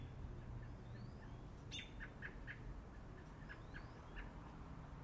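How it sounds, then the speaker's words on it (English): Birds chirp outdoors in short, faint tweets and a few rising calls, scattered over a steady low background rumble. "The birds are chirping."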